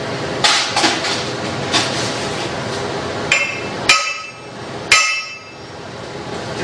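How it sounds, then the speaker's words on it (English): A hammer taps a bottom piece into place with about six sharp, ringing metallic strikes at uneven intervals, close and loud, with faint handling noise between the blows. "So I'll take my hammer. I'll just go ahead and secure that bottom."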